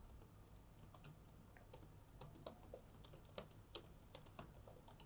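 Quiet typing on a computer keyboard, entering a show tables command at a MySQL prompt: scattered light key clicks with a few sharper taps, alone over a low steady hum.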